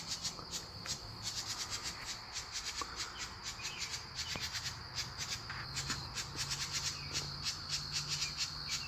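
Birds chirp outside by a front porch, with repeated bright calls forming a steady, busy chorus at moderate distance, accompanied by a constant insect-like hiss and some soft rubbing noises nearby.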